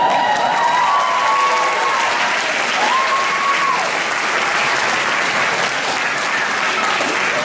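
Sustained applause from the crowd at a spring junior music concert, a thick, even wash of many people clapping throughout, loud and close, with faint whistles rising above it.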